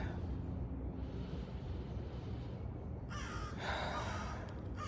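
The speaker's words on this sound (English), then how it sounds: "For me, I hear crows, I think." Faint crows caw in the distance over a low outdoor rumble, with a brief burst of louder calls near the end.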